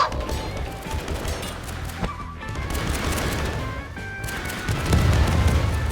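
Gunfire in the video game Landfall Archives crackles in rapid bursts and volleys, with bangs and crashes layered over game noise and a heavier rumbling burst near the end.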